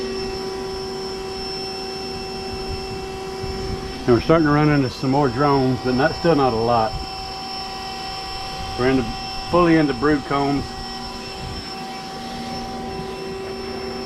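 A bee vacuum runs steadily during a beehive removal, a constant droning whine with a tonal hum, while someone talks over it in two short stretches.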